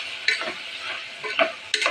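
Ivy gourd curry stirred in a pan, a spatula scraping and clattering in several close strokes over a steady, hissing fry, with no voices.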